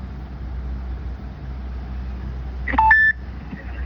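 A phone dialing Amazon customer care: a quick burst of short electronic keypad beeps near the end, sharp and close over a faint steady hum.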